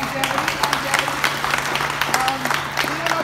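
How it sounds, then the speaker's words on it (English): An audience claps in applause during a radio personality's talk, a short steady patter of hands with speech running over it and a low constant hum underneath. "So big round of applause for that"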